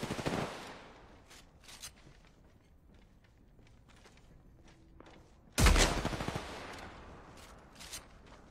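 Gunfire in the Apex Legends video game: a loud burst opens, scattered lighter shots and impacts follow, then a second heavy, close burst lands partway through, with fainter popping trailing after it.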